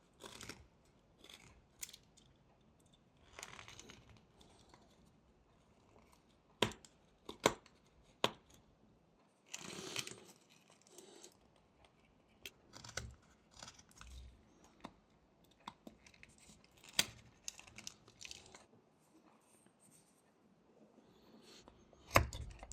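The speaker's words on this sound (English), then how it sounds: "carve the same kind of edge above it, again with stop cuts" A knife whittles a small wooden Christmas elf gnome, making scattered sharp snapping stop cuts and scraping slices at an irregular pace, close and clear with no talking.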